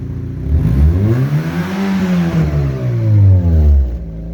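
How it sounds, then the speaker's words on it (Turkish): A car engine with a leaking, blown exhaust revs up and falls back twice in a row, rough and loud, with a raspy, rattling low drone close by. "aracımızın araç içerisinde çok yüksek sesli egzoz sesi geliyor"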